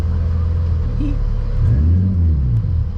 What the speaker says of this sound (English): this car is fucking moving